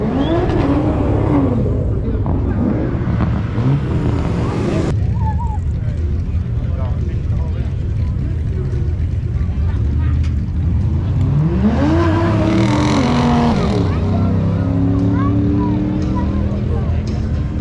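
A loud drag car engine roars and climbs through rising pitch sweeps as it accelerates hard down the track, fading briefly before surging again with shifting gears.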